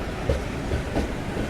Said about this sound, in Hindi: अपनी ट्रेन का डिपार्चर ललितपुर से।